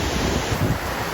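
Wind gusting across an open grassy hillside on the Juta hiking trail in Georgia, a steady close rush with low buffeting against the microphone and no voices.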